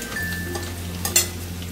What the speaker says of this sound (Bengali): রসুনটা একটু ভালো করে ভাজা হবে।